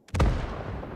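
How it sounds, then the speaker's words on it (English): American artillery shell exploding in the video game Gates of Hell: Ostfront, one sudden heavy boom followed by a long, loud rumbling decay that fills the rest of the moment. "Decent explosion, decent accuracy."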